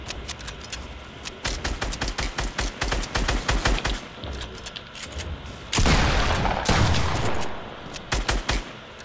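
Rapid gunfire in Fortnite: a long run of sharp, evenly spaced shots, a brief pause, then a loud sustained burst that fades near the end.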